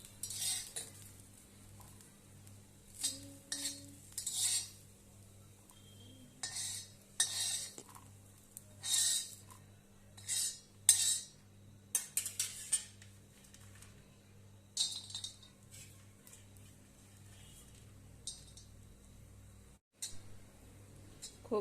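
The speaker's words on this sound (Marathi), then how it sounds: "आणि खोबरं भाजूया" Grated coconut is dry-roasted in a pan with a utensil, making intermittent clinks and scrapes of metal on metal. The bursts are fairly close, with quiet gaps between them and a low background hum.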